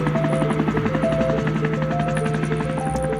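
A helicopter sound effect with a fast, steady rotor chop and engine drone at constant close range, loud and uninterrupted throughout.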